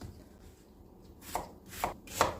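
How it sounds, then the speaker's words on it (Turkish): Three sharp knife chops through onions on a cutting board, spaced about half a second apart and growing louder, over a quiet background. "Soğanımızı doğrayalım."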